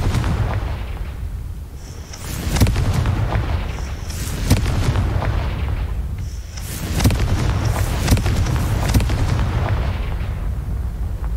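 Confringo blasting spell going off in Hogwarts Legacy, heavy booming explosions with rumbling low-end blasts recurring every few seconds, loud and close, sustained rolling roar between hits.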